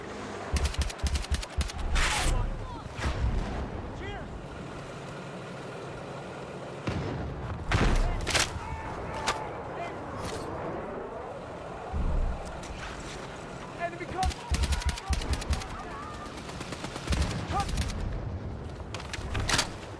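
Gunfire rattles in Battlefield 6 in several loud bursts and single cracks, and a player talks between the shots.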